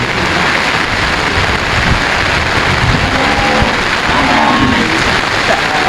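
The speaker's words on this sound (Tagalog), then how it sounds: "Sadyang malakas ang ulan." Heavy rain pours down at the Lucena livestock auction market in a dense, loud, constant hiss, drumming steadily on surfaces nearby with no pauses.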